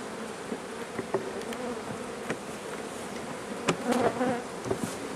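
Bees are shaken from a hive frame into a box while preparing hives for combining, a dense, continuous buzzing swarm close by, with a few knocks and a brief louder surge of buzzing.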